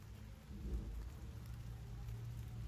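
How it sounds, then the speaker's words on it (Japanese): Steady rainy-season rain falls outdoors in a continuous, soft, even hiss with a low rumble underneath, and no voices are heard. "ほら雨降ってきた"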